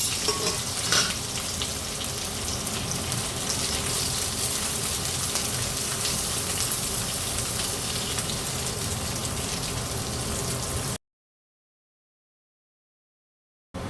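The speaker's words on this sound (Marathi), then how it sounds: "तेल गरम झाले की कारली त्यामध्ये घालून तेलावर छान परतून घेऊया." Bitter gourd sautés in hot oil, a constant loud sizzle and crackle up close with occasional stirring rustles, running about eleven seconds before cutting to silence.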